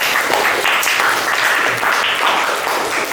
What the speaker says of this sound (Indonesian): Tepuk tangan untuk kalian semua ya